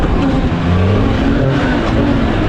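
CFMOTO Z10 side-by-side engine droning steadily while driving, a loud, constant mechanical hum with slight shifts in pitch, heard from inside the machine with no talking.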